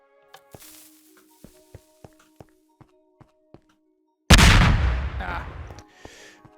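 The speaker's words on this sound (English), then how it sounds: "The TNT is going to blow up, and hopefully that piston head there is going to be blown off." TNT detonating in Minecraft: several light clicks and taps from a redstone mechanism, then a sudden loud explosion that decays into a rushing crumble and fades out.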